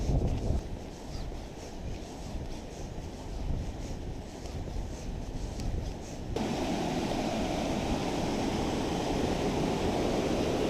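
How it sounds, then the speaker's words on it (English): Creek water spills steadily from a pond outlet during high spring runoff after heavy rain, a continuous broadband rush that grows louder and denser partway through as the source comes closer. "you can definitely hear the water. It's coming out right down here."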